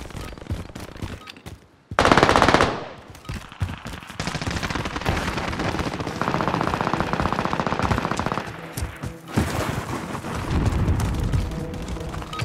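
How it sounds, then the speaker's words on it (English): Dense, loud automatic gunfire in the Call of Duty Warzone video game, sustained rapid bursts with a sharp blast near the start, continuing almost without pause throughout. "Enemy hostile fire."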